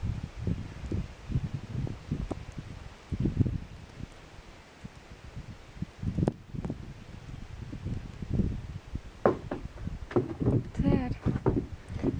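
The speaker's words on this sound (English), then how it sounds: "Getting a little windy out there" Wind gusts during a heavy October snowstorm atop High Point, coming as rough buffeting bursts against the microphone, with a voice speaking briefly near the end.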